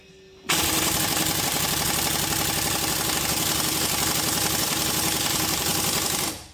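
An air impact wrench, fed by a compressor at 150 psi, hammers on 24 mm front strut bolts of a Honda Ridgeline in one loud, continuous burst of rapid rattling blows that lasts about six seconds and then cuts off.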